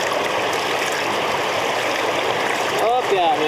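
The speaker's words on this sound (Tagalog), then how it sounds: "Lakas ng tubig niya na." A strong river current rushes steadily near Baler, Aurora, a dense continuous wash of flowing water throughout, with a brief higher bird-like chirp or squeak near the end.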